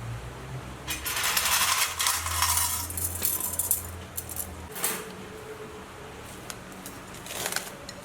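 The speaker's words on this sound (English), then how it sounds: "Just give it another stir before skewering." A spoon stirs marinated chicken hearts in a bowl, making close clinks and scraping metallic rattles in several short bursts, with quieter gaps between them.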